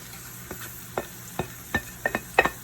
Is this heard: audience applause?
no